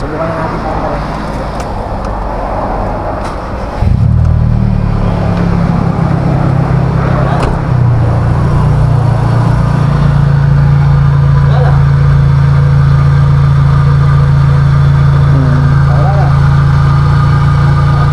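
A Nissan Sentra engine starting and idling close by with a steady, loud hum, plus a compressor noise in the engine bay, under background talk and faint street noise.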